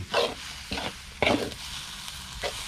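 Fresh coriander hits hot oil in a Thai stir-fry, giving bursts of crackling sizzle and stirring scrapes that rise and fall in short waves over a low background hiss, with no talking.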